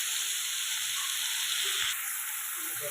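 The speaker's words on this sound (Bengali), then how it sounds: "চিংড়ি মাছটা আমি ভাজিনি, কাঁচা চিংড়ি দিয়ে দিয়েছি।" Raw prawns fry in a pan with a steady, fairly quiet broadband sizzle that holds through the whole stretch, with no voices.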